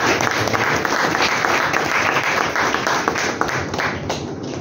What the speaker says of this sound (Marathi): आपण सर्वांनी टाळ्यांचा कडकडाट करून त्यांना दाद देऊया